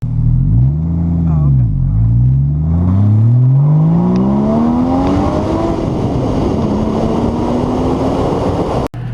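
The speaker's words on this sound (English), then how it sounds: "With the exhaust, it makes us feel like we're going 100, right?" A Porsche Boxster S exhaust revs while driving, the engine note rising and falling through quick blips, then climbing steadily through sustained acceleration, loud and close, with voices underneath.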